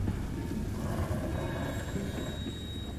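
Train cars roll along in the Blair Witch VR video game, producing a continuous low rumble with faint high squeal tones, steady and close, with no talking.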